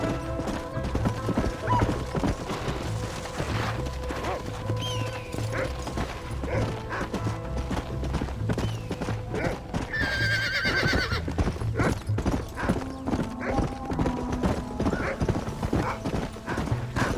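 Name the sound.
horse galloping in video game Red Dead Redemption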